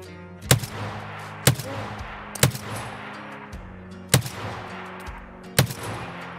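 Single sharp gunshots from Escape from Tarkov, six loud cracks spaced about a second apart with an irregular rhythm, each with a short echoing tail over a low steady background hum.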